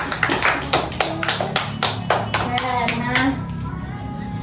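Students in a classroom clap for a classmate in a quick, even rhythm of about a dozen claps, close and fairly loud, followed by a teacher's voice.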